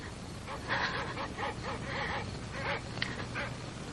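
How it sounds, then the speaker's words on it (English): Dogs bark out in the dark, a run of repeated yelping, honking calls at a middle distance, fairly loud and irregular over a low background hum. "Those dreadful dogs. They sound so terribly"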